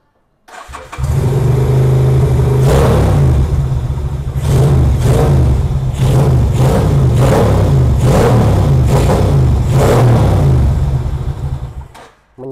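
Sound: Kaisar Ruby 250 cc V-twin motorcycle engine revving

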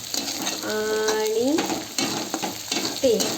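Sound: green chilli, ginger-garlic paste, cumin, mustard frying in wok

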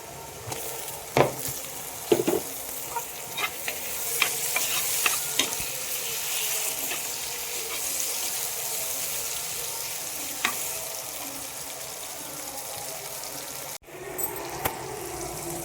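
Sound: onions sautéing and being stirred in a pan

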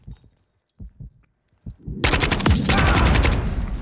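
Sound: gunfire in Modern Warfare III video game

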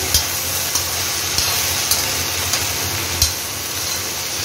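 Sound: stirring okra (bhindi) frying in a pan

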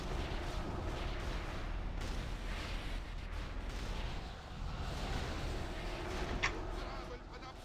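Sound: ship cannons firing in a video game

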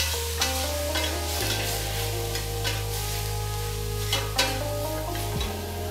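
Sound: stirring parsley into sauce in a pan

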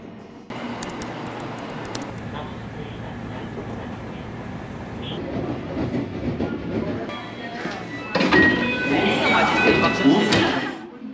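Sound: overnight sleeper train running from Osaka to Tokyo

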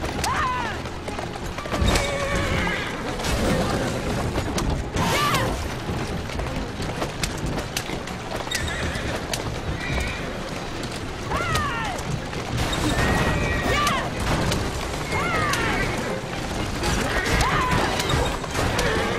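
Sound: horse-drawn cart in video game Assassin's Creed Syndicate

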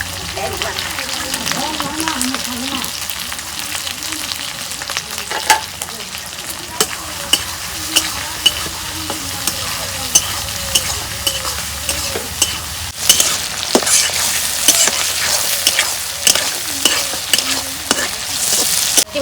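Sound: dried fish frying and being stirred in pan

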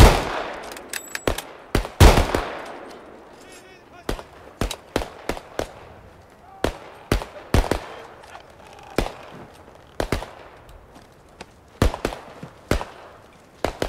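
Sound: gunfire from a firing squad

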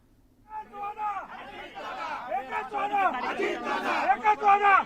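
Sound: crowd of party workers celebrating in Nashik

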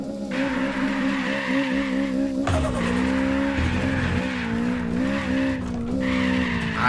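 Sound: turbo Toyota Trueno AE86 drifting, tires skidding, in video game Apex Point

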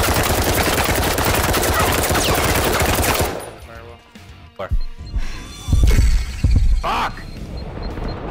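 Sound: gunfire in a video game

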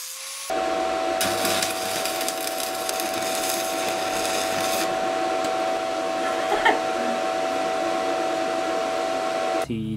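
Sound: cutting a stainless steel weld on a lathe

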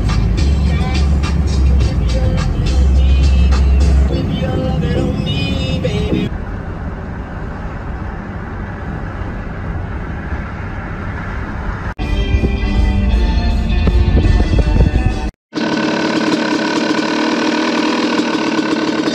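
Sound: Yamaha YZ250 dirt bike engine running

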